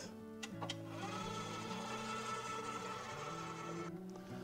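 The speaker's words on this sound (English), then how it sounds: "Alright, the machine did its thing. It mixed for a while." A stand mixer kneads sweet bread dough for Easter, its motor humming in a steady, continuous drone with a faint clatter near the start and no talking.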